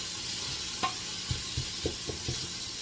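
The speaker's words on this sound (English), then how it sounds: "Stir that together and let that continue to sweat down" Lentil stew with bay leaves and dried oregano sweating in a pot, a soft sizzle under a series of quiet, evenly spaced stirring knocks and scrapes, close by and without voices.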